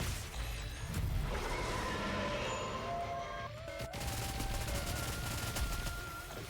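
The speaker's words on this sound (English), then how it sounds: "the bullets are still loud as hell" Rapid gunfire bursts from the video game NIKKE, layered automatic fire and impacts running continuously at moderate level, with no voices over it.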